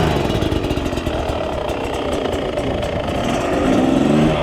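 A 2021 Beta 250 RR two-stroke dirt bike engine running on a trail ride, a loud steady buzzing drone that swells slightly with more throttle toward the end.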